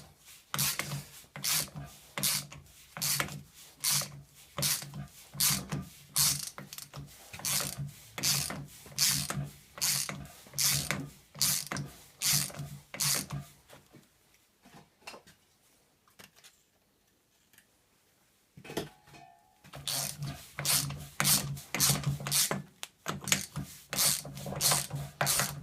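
A ratchet drives a long 27 socket on a car CV joint in a rhythmic series of clicking turns, pauses briefly, then resumes the clicking.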